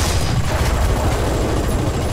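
Heavy, booming rumble of a tank gun firing in the War Thunder video game, a loud, dense low blast filling the whole two seconds.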